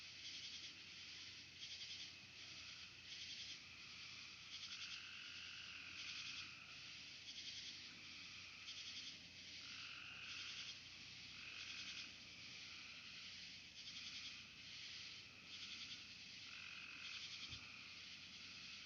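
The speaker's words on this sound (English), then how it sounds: "A frog." Steady frog croaking repeats in regular pulses with a dense insect-like chorus behind it, a continuous outdoor night ambience at moderate distance.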